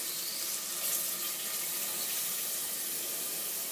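Water pours steadily into a cooking pot holding lentils and peas, a continuous close hiss of running liquid with no pauses and no voices.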